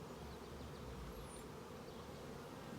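Honey bees buzz faintly and continuously during a hive inspection as burr comb is removed, a soft, even insect drone with no talking.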